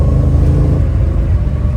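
Car engine running steadily in second gear on a long drive back to the shop, a loud close low rumble that holds its pitch throughout, with no talk.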